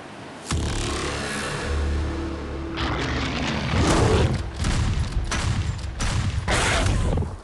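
Shotgun blasts from a mobile video game come as several loud, booming bursts spaced a second or so apart over a rumbling game background, with no talking.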